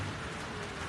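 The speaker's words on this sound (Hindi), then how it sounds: "कराची में बारिश का सिलसिला शुरू है।" Rain falls on a rooftop in Karachi as a steady, dense hiss of drops, with no voices heard over the brief wash of sound.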